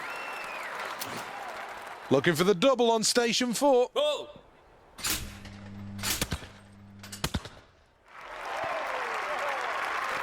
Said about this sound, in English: Cleared that one and earns a round of applause.